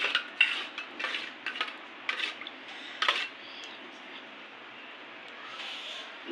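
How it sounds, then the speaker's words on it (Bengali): Fuchka filling being stirred and mixed with lemon slices and lemon juice, a run of clinking, scraping spoon-against-bowl taps in the first half that thin to a softer, quieter stir, close and without speech. "এগুলো নেড়ে মিশিয়ে নেব।"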